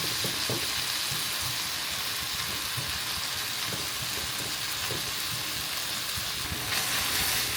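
An egg frying in the middle of a pan of yakisoba-style noodles gives a steady, close sizzle and hiss, with a few soft scraping knocks and no talk.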